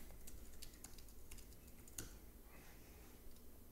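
Quiet, irregular clicking of keys on a computer keyboard, a steady stream of soft taps with an occasional sharper keystroke.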